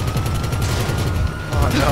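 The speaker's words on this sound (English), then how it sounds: "Shoot out his tires and fuck with him." Rapid automatic gunfire in GTA Online, shooting at a car's tires: a dense stream of shots runs through the whole moment with a brief shift in tone near the end, over in-game engine noise.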